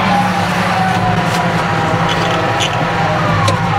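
A new tractor's engine drones steadily as it drives out to pick up a trailer, a constant loud low rumble with no breaks or talk.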